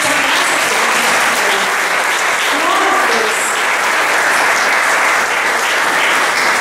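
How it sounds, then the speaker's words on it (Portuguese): A church congregation claps loudly together in worship, a thick, continuous burst of applause filling the room with no break across the whole stretch. "Pode dar um aplauso ao Senhor."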